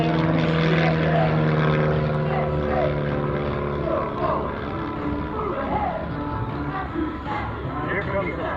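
At the 2024 New Garden Airshow, Erik Edgren's propeller airplane in his comedy act drones past, its engine note rising and shifting as it goes by, while an announcer talks over it.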